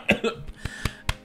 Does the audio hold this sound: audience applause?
no